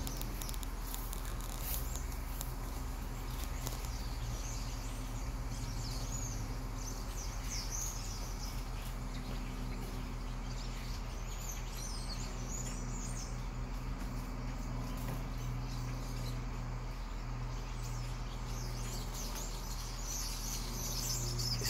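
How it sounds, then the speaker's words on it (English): Starlings in a walnut tree knocking nuts loose, a continuous busy pattering and rustling with scattered chirps and bird calls over a steady low outdoor rumble. "There's these birds up here just knocking the walnuts down and making a hell of a racket doing it."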